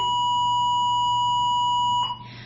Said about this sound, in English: That was the school bell. It's the end of 6th period.